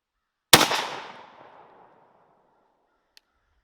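A shotgun fires a single 3-inch Boss combo load of number 3 and 5 shot with a sharp, loud blast that echoes away over about a second and a half, followed by a faint click.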